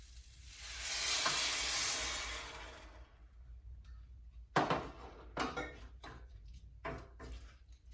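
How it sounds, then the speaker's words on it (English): Vegetable stock pours into a hot pan of rice with a loud burst of sizzling, then fades to quieter bubbling with a few clinks and scraping stirs. "And then I'm going to add a cup of vegetable stock."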